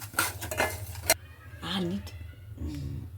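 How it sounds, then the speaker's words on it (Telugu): Ingredients for amla pickle stir and fry in hot oil in a pan until browned, with utensil scrapes and clinks over a steady sizzle, while someone talks throughout. "ఇలా బ్రౌన్ కలర్ వచ్చే వరకు వేయించుకోవాలి"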